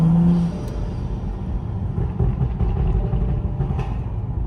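BMW F30 335i with an MHD Stage 2 tune, engine idling and burbling through its exhaust: a deep, close, steady rumble with small swells in level, no talking.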